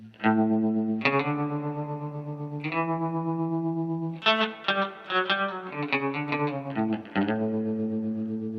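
Electric guitar run through a Walrus Fundamental Tremolo pedal at reduced depth and rate, playing sustained chords and quick note runs with a gentle pulsing swell and a slightly distorted, chorused edge, loud and close with no talking.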